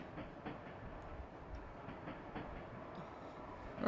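A train rolling along rails in the role-playing game Trails From Zero gives a steady, low rumbling hum with a faint rhythmic clatter, continuous and fairly quiet throughout.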